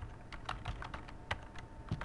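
Quiet, rapid keystrokes on a computer keyboard as a number is entered, a short run of soft clicks in steady succession with no talk.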